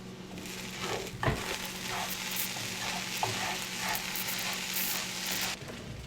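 Ground beef fries and gets stirred in a pan for Korean beef, a constant sizzle broken by a few scraping knocks of the utensil against the pan, fairly close and without speech.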